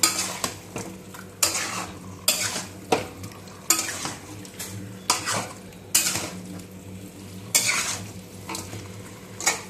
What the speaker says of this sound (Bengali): এই রান্নাটা এবার ভালো করে মিশিয়ে নিচ্ছি